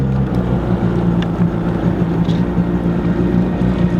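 A Sea-Doo GTI LE jet ski engine with a replaced engine and new impeller, just started and idling high, gives a steady loud low rumbling drone that holds evenly throughout at close range.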